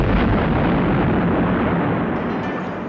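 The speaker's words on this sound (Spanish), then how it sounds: "¿por qué le disparan un cañonazo al frontis del palacio?" A cannon shot fired at the facade of the Palace of Justice gives a loud, sustained broadband blast that rumbles on for a few seconds and slowly fades.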